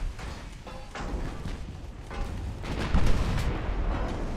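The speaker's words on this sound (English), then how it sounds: "Fire the guns!" Warship guns fire in Ultimate Admiral Dreadnoughts, low rumbling booms rolling one into another over a constant sea-battle drone, with a heavier thump near the end, loud and without talk.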